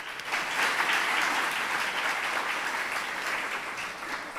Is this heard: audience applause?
yes